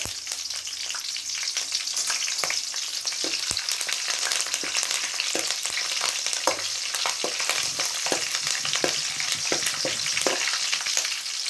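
Curry leaves and dried red chillies fry in hot tempering oil for a tomato and fenugreek-leaf curry, a steady loud sizzle with crackles and occasional stirring scrapes.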